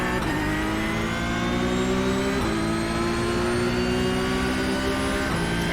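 Porsche Cup race car engine howling around Imola in iRacing, loud and close, a steady high-pitched drone that climbs in revs and drops briefly at a few gear shifts.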